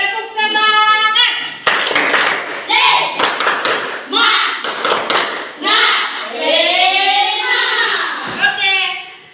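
Schoolchildren in an Indonesian classroom do a rhythmic spirit clap, loud patterned bursts of clapping mixed with shouted chanting voices throughout.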